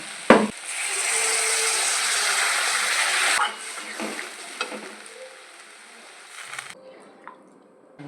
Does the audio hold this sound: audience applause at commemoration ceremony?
no